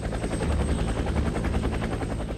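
A Bell UH-1 Huey helicopter's rotor thumps in a steady, rapid beat over a heavy engine drone, loud and close throughout, with no voices.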